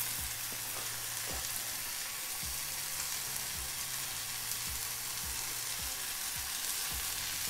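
Fish sizzles and crackles in hot oil for fish puttu, a constant bright frying hiss with a low steady hum and occasional soft bumps underneath.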